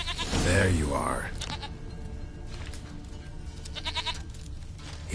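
A goat bleats in The Witcher 3: Wild Hunt, a loud wavering cry in the opening second, followed by quieter game ambience and faint background sounds.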